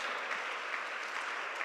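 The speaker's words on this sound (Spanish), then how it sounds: "Denle un fuerte aplauso a Jesús." A church congregation gives a loud, sustained round of applause, a dense even wash of clapping without any speech.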